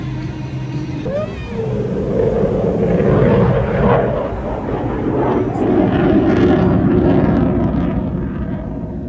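A Eurofighter Typhoon jet with two EJ200 engines flies over as a loud, broad roaring rumble. It swells and holds steadily while people talk underneath.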